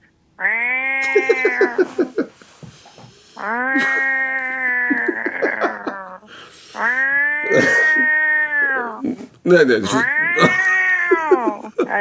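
On a radio show, a person imitates a gentle cat with long, drawn-out meows, four of them in a row, loud and close, with brief murmured replies between.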